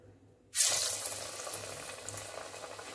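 Small vadai batter dropped into hot oil for morkuzhambu vadai, bursting into a loud, bright sizzle at once that then settles into a steady crackling fry, with faint bubbling throughout.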